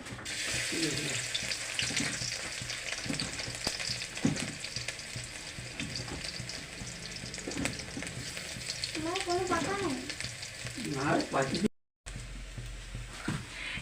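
Dried red chilies and garlic frying in oil for a jute leaf dish: a steady close sizzle with occasional stirring scrapes, someone talking over it, a brief cut near the end, then the sizzle resumes.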